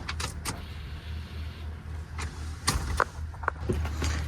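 An OBS-era Ford F150 pickup truck idles with a low steady engine hum while its fuel pump primes, with a few faint clicks and knocks over the running engine and no talking.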